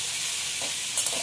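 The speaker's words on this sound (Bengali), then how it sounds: "চিংড়ি নিয়ে অন্য কড়াই ভেজে নিচ্ছি" Prawns fry in a wok with a steady, close sizzling hiss and faint stirring, lasting just over a second with no voices.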